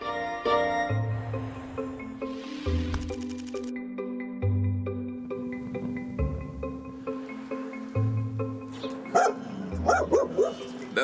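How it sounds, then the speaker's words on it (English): A dog barks repeatedly, loud and close, in uneven bursts mixed with yips and whimpers, over a steady musical background. "You keep barking, that's good."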